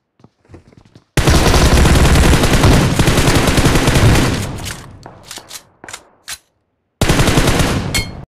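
Gunfire in the mobile battle royale game BGMI (Battlegrounds Mobile India) crackles in a loud, sustained automatic burst, then breaks into a few short volleys and pauses before another close burst at the end, with no one talking.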